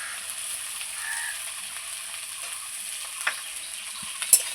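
Chopped onion sizzles in hot oil with okra, turmeric and salt: a steady, close frying hiss that runs throughout, with a couple of sharp stirring clicks near the end and no talking.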